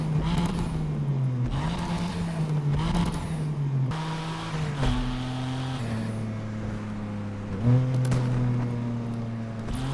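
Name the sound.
BMW M2 engine revving in video game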